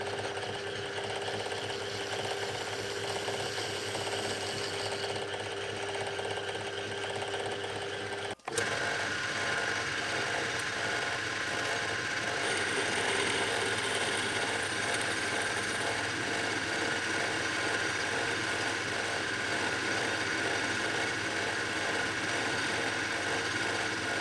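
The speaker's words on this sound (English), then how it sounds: "let's chamfer these, and then we're going to drill this out and bore it out to 28 millimeters" A metal lathe runs steadily up close while chamfering a workpiece, giving a continuous mechanical whir with a rhythmic ratcheting rattle and one brief break partway through.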